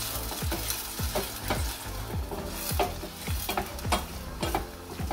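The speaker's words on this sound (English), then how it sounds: "the spring onion and the garlic, it will cook extremely fast" Spring onion and garlic fry in a pan with a loud, continuous close-up sizzle. A spatula scrapes through it in a steady, repeating rhythm, and there is no talking.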